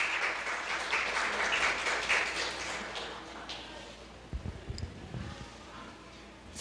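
A church congregation applauds during a sermon, a broad wash of clapping that gradually fades out, followed by a few faint thumps and rustles in a quieter room.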